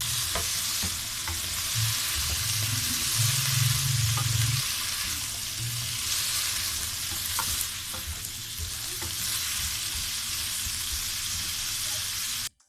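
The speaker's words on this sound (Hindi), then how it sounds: "आलू भी थोड़े से फ्राई हो जाएंगे" Potatoes sizzling and frying in a pan over a medium flame for achari aloo, a steady close hiss with occasional stirring scrapes and clinks, no talking.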